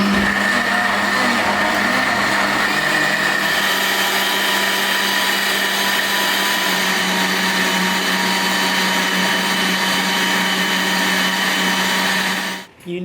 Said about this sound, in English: Can somebody explain why blenders are so noisy?